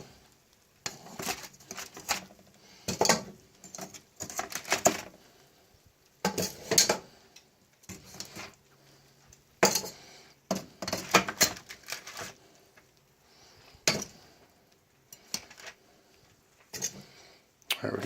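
Cooked beef bones being dropped and shifted into a metal soup pot, a long series of close, irregular clunks and clatters in bursts, some loud and some light, separated by short quiet gaps.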